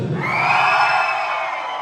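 A crowd at a dance event shouts and cheers back in answer to a call, one loud, sustained collective roar that fades slightly toward the end.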